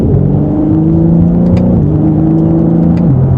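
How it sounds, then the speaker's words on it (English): A 2025 BMW M3 Competition accelerates while merging into traffic, its loud engine note climbing steadily from inside the car, with two clear upshifts that drop the pitch before it rises again. "acceleration as we merge into traffic here"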